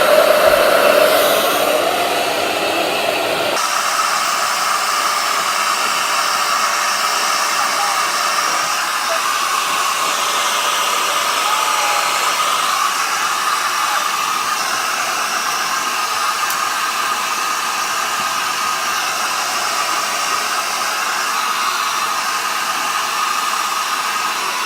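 A Mark Hill hair dryer blows on hair with a loud, steady whooshing hiss that shifts slightly at the start, then runs unbroken throughout.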